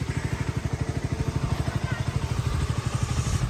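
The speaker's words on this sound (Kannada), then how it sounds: "ಜೈ ಗಾಡಿ ಸ್ಟಾರ್ಟ್ ಮಾಡಿದ್ದೀನಿ" A six-year-old KTM RC 200 motorcycle idles right after starting, a close, steady, rapid thumping exhaust beat that holds even for a few seconds and swells slightly toward the end.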